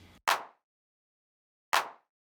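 Two crisp, dry clap samples from a producer pack sound alone with a long silent gap between them. A short low thump ends just before the first clap.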